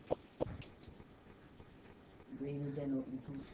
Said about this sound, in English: So I want everybody to write what you think the symbol should be.